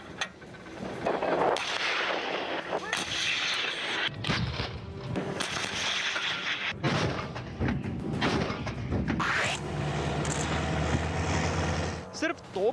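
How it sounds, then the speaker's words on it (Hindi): Russian artillery shelling near the Ukraine border sounds as repeated heavy booms and rumbling blasts over several seconds, with talk heard over much of it. "आप गिनते गिनते थक जाएंगे, लेकिन रूस की ये फायरिंग खत्म नहीं होगी।"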